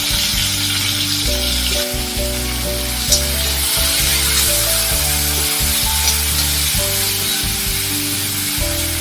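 Two medium tomatoes sautéing in hot oil in a pan for Kerala tomato theeyal, a loud, steady sizzle and crackle running continuously throughout, close up, with a low droning hum beneath it.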